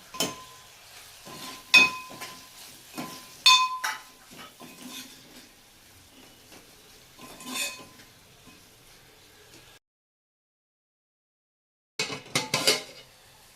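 Onion and tomato being sautéed in a pan for egg curry, with intermittent metal spoon scrapes and clinks against the pan over a faint sizzle, then a brief silence before more stirring.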